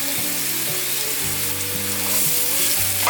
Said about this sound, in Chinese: 把香菇炒香。